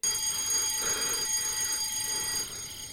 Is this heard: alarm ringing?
yes